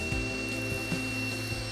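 An Ozito Einhell 18V brushless angle grinder cuts through a steel lawnmower blade, giving a steady high-pitched whine with grinding rasp and slight rhythmic wobble throughout, loud and close, with no voices.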